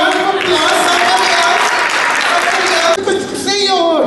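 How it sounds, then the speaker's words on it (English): Applause rolls through an audience at an Empower Afriq graduation talk show, a dense wash of clapping for about three seconds before fading as voices and cheering rise over the tail end. "Come on, give a round of applause."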